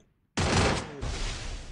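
Gunfire in the Free Fire battle royale during a tournament match: a sudden loud burst of rapid shots cuts in after brief near-silence, with a second burst following, dense and sustained for over a second without speech.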